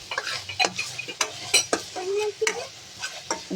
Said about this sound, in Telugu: పచ్చివాసన పోయే వరకు కలుపుకొని ఫ్రై చేసుకోవాలి